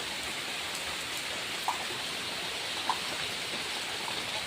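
Heavy rain pours steadily during a flood in Balasore town, making a dense, even hiss close by with a couple of faint splashes or taps.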